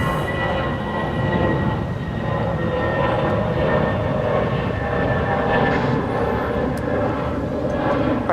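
A passenger jet at Dallas-Fort Worth International Airport gives off a steady, loud, broadband engine roar with a faint whine on top, continuous and unbroken throughout, with no talking.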